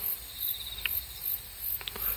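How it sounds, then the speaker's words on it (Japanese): Crickets and other insects chirp outdoors in a vineyard on a cooling September day, a steady high pulsing trill in regular bursts with a few sharper nearby chirps, moderately quiet and with no talk. "虫の鳴き声がすごいです。"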